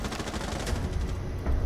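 Gunfire in a shooter video game, a rapid continuous burst of fairly quiet shots with a rattling rhythm, heard alone with no talking.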